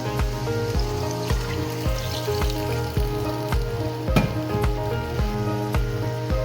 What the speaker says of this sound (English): We're also going to add in 1 cup of water.